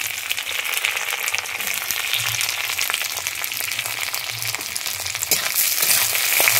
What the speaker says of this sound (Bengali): এরপরে দিয়ে দিচ্ছি কেটে রাখা পেঁয়াজটা।